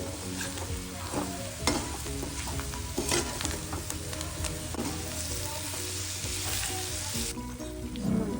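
Melting jaggery sizzles in a pan while a spoon stirs it steadily, a loud, continuous frying hiss with scraping strokes running throughout.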